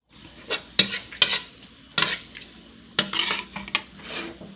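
Shrimp heads frying in a pan, with a faint sizzle beneath repeated clinks and scrapes of a utensil stirring against the metal, in short irregular bursts.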